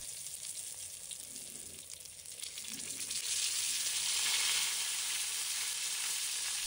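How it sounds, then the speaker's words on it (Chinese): Golden pompano pan-frying in oil over medium-low heat gives a steady sizzling hiss that swells louder partway through and holds there, close by and with no talk. "把鱼放入锅中，转中小火慢煎。"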